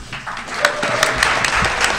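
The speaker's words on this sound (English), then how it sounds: "They got all the clapping" Audience applause at a comic convention comedy panel, a short burst of scattered clapping from a crowd, fairly close and steady.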